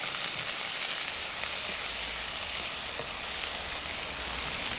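Ivy gourd sautéing in a pan after garlic, giving a steady, close sizzle and fry that runs evenly throughout with no talk over it.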